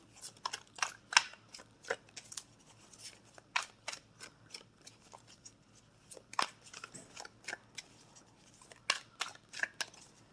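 Oracle cards being shuffled and drawn from a deck, giving a quick series of crisp, close papery flicks and snaps in irregular bursts, with no talk over them.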